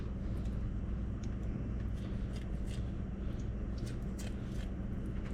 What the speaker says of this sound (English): I'm just going to use the kitchen shears instead of the knife.